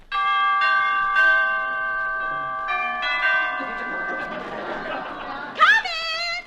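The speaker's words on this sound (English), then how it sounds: "Well, I'll ring the bell." A doorbell chimes in an old-time comedy radio show, sustained bell-like tones ringing out a few times in a row with faint chatter behind, ending in a brief louder flourish.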